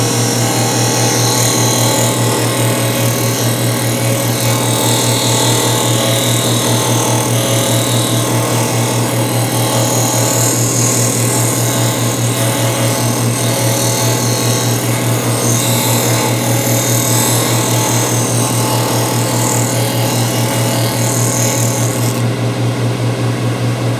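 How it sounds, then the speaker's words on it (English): A stationary sander grinds steadily against a small round wooden piece, a loud continuous motor drone with a strong low hum and broad abrasive hiss, unbroken for the whole stretch with no talking. "We're going to sand this little round piece that we cut earlier."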